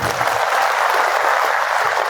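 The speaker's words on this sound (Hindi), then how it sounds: "हमारे डीएसपी तहसीलदार साहब के लिए ताली बजा दो भाई।" A crowd at a tractor gathering in a grain market applauds for the DSP and the tehsildar, a loud, dense wash of clapping sustained without pause.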